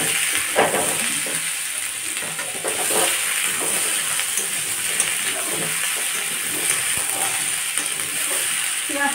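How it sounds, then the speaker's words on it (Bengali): Chopped onions fry in a pan with a moderate, continuous sizzle, overlaid by intermittent clatter and scraping of stirring nearby. "পেঁয়াজটাকে একটু লাল লাল করে ভেজে নেব।"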